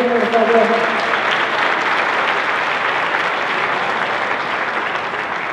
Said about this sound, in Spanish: Por favor, un aplauso para ellos, por favor.